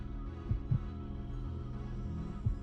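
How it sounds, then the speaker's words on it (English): A heartbeat sound effect from the video game Resident Evil Code: Veronica X gives soft, low thumps at irregular intervals, set over a steady droning hum with no voices. "I don't know why this has the heartbeat on it though"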